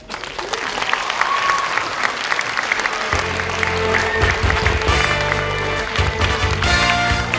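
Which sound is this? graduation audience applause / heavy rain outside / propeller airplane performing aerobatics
graduation audience applause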